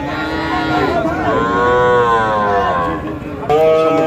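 A Nepali Gir bull calf and other cattle at a busy livestock market, with a long, loud low moo rising over crowd chatter and a second call starting near the end.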